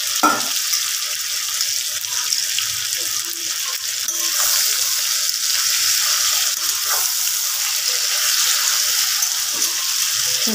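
Masala bori, spiced lentil dumplings, fry in hot oil in a village Bengali kitchen, giving a steady, loud, hissing sizzle throughout with faint occasional clinks and no voices.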